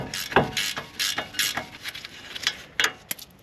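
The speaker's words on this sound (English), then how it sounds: "Now I have a ratcheting wrench just to make it go faster." A ratcheting wrench loosens the 18 mm upper ball joint nut on a 2007-2013 Chevy Tahoe or Silverado, giving close, quick bursts of metallic clicking in repeated strokes with short pauses between them.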